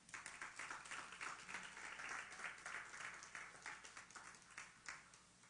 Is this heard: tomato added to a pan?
no